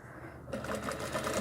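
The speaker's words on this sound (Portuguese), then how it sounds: "Rebato uma costura reta" A sewing machine stitches a straight seam along the ruffle and skirt of a rag doll dress, whirring into a steady, rapid stitching run after a brief lull, close up.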